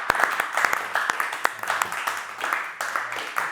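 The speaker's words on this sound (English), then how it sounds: "And round of applause for you guys." Workshop audience giving a round of applause, a dense spread of many hands clapping at moderate level, continuing steadily for a few seconds with faint voices mixed in.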